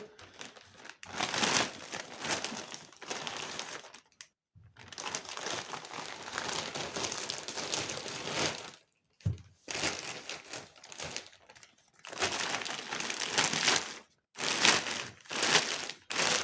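A plastic bag crinkles and rustles loudly up close in repeated handling bursts, separated by short silent pauses.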